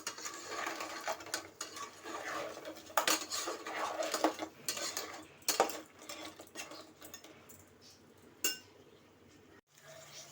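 Crabs being stir-fried in oil in a pot for a spicy Malvani-style crab curry, heard as irregular metallic clinks and scrapes of a spatula against the pot with faint frying underneath; close, moderate, no voices.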